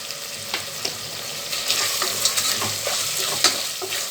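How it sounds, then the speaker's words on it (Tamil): Tomatoes sauté in a pan for fish biryani, giving a constant bright sizzle with scattered soft pops and occasional spatula stirs near the microphone, without any talking. "இந்த தக்காளி நல்லா கொஞ்சம் வதங்கி வரட்டும்."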